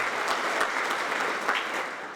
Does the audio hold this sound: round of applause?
yes